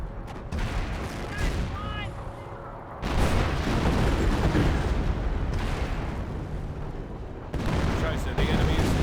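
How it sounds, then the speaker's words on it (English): Artillery barrage in the Company of Heroes 1 strategy game: a dense, continuous roar of booming shell impacts and gunfire, loud and sustained with a sharper fresh burst near the end, a voice talking over part of it. "Barrage running on in."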